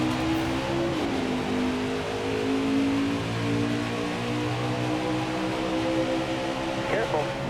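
Truck engines drone and rev in a NASCAR Heat 4 truck race at Atlanta Motor Speedway, a steady close engine hum with shifting tones through the pack and a brief whine near the end.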